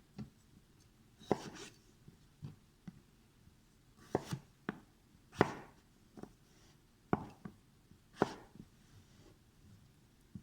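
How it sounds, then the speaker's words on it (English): A knife chops through food on a cutting board while cooking a slow cooker roast chicken, with a series of sharp, separate strikes at an irregular pace, close and fairly quiet, with no talking. "holding the knife properly, just cut that guy in half"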